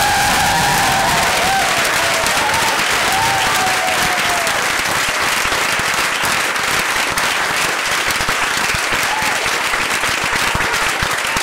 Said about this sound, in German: einen großen Applaus bitte für unseren Pianisten Chris Geil